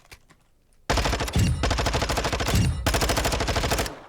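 Automatic weapon fire rattles at the firing range in the Modern Warfare 2 video game, two long loud bursts of rapid shots.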